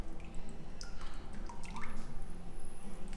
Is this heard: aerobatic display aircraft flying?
no